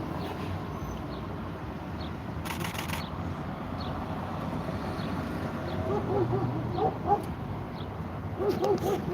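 Distant dog barking outdoors in Detroit, short yipping barks that come in small bursts toward the end, faint above a constant low background rumble.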